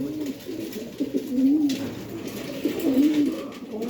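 Pigeons kept for sale coo in low, rolling phrases, two clear coo bursts standing out over a steady murmur of cooing from nearby birds.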